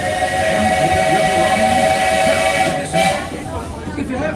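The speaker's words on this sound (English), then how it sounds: "stay seated until our train comes to a complete stop." The Walt Disney World Railroad train at Magic Kingdom rumbles and squeals loudly up close as it slows to a stop at a station, with a steady metallic tone fading near the end.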